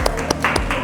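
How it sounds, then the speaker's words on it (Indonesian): A classroom of students clapping for a classmate, a brief loose burst of hand claps close by with uneven rhythm. "Oke, tepuk tangan dulu buat temannya."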